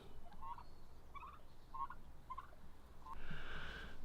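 Turkeys on a farm, one male and four hens, gobbling in a series of short, bright calls about every half second, fairly close, with a louder burst of rough noise near the end.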